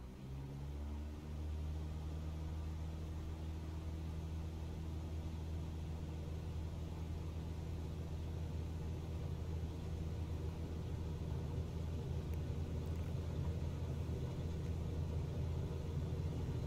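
A simulated aircraft in Microsoft Flight Simulator 2020 accelerates down the runway for takeoff, giving a steady, low engine rumble and drone that holds nearly constant throughout, with no talking.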